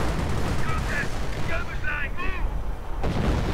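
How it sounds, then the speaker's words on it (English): British artillery fire in a WWII video game, heard as low rumbling booms under constant game noise, with a few short tonal effects layered over the mix. "And more artillery against the German base from British artillery"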